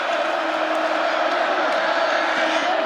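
Large college football stadium crowd during Oklahoma State versus Kansas State in 2022, a steady, dense roar of many voices booing, sustained and even throughout with no pauses.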